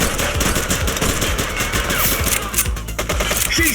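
Rapid sustained automatic gunfire from The Precinct, dense and loud throughout, a steady rattling stream of shots with no talking.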